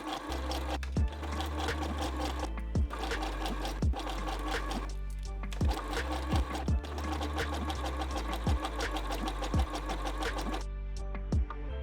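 A sewing machine zigzag stitching the folded edge of stretched knit fabric, running in close, rapid mechanical bursts with a steady motor hum and periodic thumps, pausing briefly between runs.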